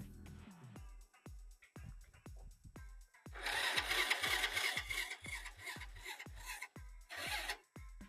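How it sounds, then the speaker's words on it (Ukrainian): A Kanuni Eagle 125cc motorcycle engine cranks on a weak, flat battery: close, sluggish starter pulses thump in a steady rhythm, and a harsh grinding rasp swells over them midway before easing, with no talking. "Акумчик сівший, мотор крутиться е, з певними напрягами"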